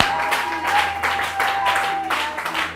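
Congregation applauding and acclaiming Jesus Christ at a church prayer service, a steady wash of clapping and crowd voices filling the space, with a sustained tone running under the noise throughout.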